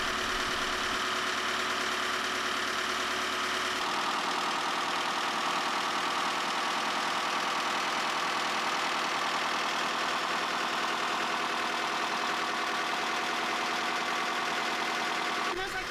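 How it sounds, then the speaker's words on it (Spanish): A Volvo Penta boat engine idles steadily with a continuous mid-pitched hum and rattle, loud and unbroken, its low rumble dropping off early on while the running tone carries on alone. "Con el motor ya en marcha revisamos la salida de humos."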